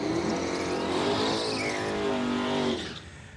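A 5.3 litre drag racing car at an Australian eighth-mile drag event roars loudly with a rising, sustained engine note that tails off at the end.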